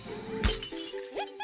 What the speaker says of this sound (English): let's break the glass.